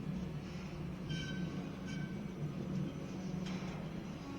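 A CSX freight train, heavy eastbound M424 with all locomotives at the head end, rolls steadily past in a snowstorm at Pittsfield, Massachusetts, giving a continuous low rumble with faint squeals over the constant noise.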